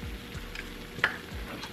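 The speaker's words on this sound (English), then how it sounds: "You scramble it when you are on top of the skillet." Eggs scramble in a hot cast iron skillet, a soft, faint sizzle with a few light scraping strokes and one brief clink, heard alone without talk.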